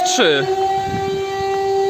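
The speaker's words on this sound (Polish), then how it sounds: "wyją syreny coś się dzieje" A siren wails steadily at a sustained high tone, with a brief falling whistle-like sweep at the start and low background rumble.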